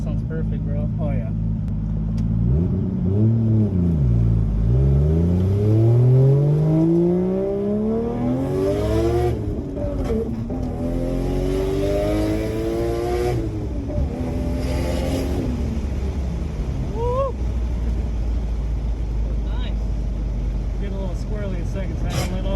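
A Toyota Soarer with a 1JZ engine and full custom exhaust revs up and down through first and second gear, rising and falling harmonic sweeps loud and close, with people talking over it.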